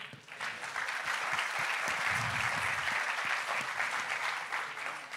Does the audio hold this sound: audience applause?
yes